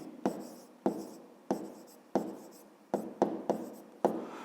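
A pen scratches across paper in eight quick, close strokes, each a sharp onset that fades into a soft rasp, heard on its own in a quiet room.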